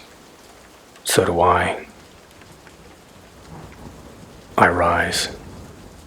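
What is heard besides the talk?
thunderstorm with rain and thunder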